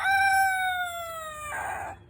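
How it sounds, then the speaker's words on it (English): A rooster crows once nearby, a long drawn-out call that ends with a rougher, falling tail, with no talking. "excuse my roosters."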